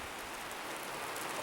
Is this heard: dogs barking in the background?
no